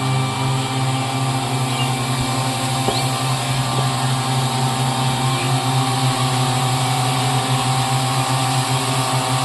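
Two tea leaf cutting machines run together in a tea garden, a steady loud motor drone with a constant hum and broadband whir throughout, no breaks, close by.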